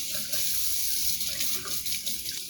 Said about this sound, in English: rinse them under some water